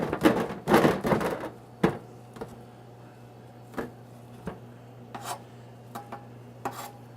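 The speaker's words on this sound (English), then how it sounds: "We cut a little piece off the end." A knife saws through the crisp pastry crust of a rare beef Wellington: a loud burst of crunchy cutting strokes up front, then a scattering of softer, isolated scrapes and taps against the plate.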